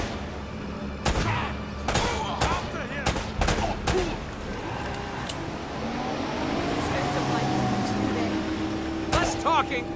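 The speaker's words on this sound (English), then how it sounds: "More shooting!" Gunfire in the Uncharted video game cracks out in several sharp shots and short bursts over a rumbling vehicle drone, with more shots near the end.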